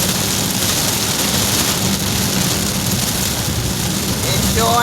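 Torrential rain pounding on a car while driving, a dense, loud, unbroken hiss and drumming close around the cabin, steady throughout.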